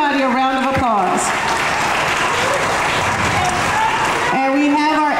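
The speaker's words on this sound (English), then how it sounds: "Can we give everybody a round of applause?" A school audience at an African American history presentation gives a round of applause: dense, loud clapping that swells for about three seconds between stretches of a speaker's amplified voice.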